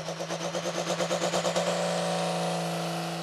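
A turbocharged Dodge pickup truck racing on a dirt track winds up its engine, a pulsing, rising roar that settles into a steady, sustained drone, loud and close.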